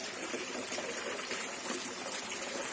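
Water from a small brook in a rural yard in Dangcol, Balanga, Bataan runs in a steady, faint broadband trickle and wash, continuous from start to finish with no voices over it.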